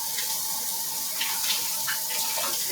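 Running tap water rinsing cilantro, chives and parsley in a sink, a loud continuous hiss of flowing water with small splashy shifts as the herbs move under the stream.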